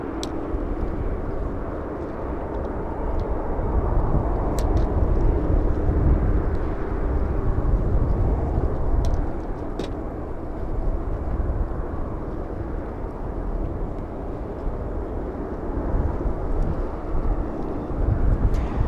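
A Delta Airlines jet at Los Angeles International Airport gives a steady, loud, broadband engine roar that holds for the whole stretch, with some wind buffeting and no talk.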